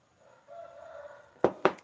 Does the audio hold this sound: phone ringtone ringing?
no